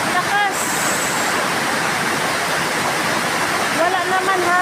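Loud, continuous roar of rushing floodwater close by, a dense unbroken wash of noise with brief faint tones at the start and end.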